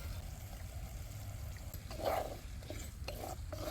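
A ground cumin and garlic masala goes into a frying pan and is stirred, with quiet scraping and shuffling over a soft, low sizzle and a brief brighter swish near the middle.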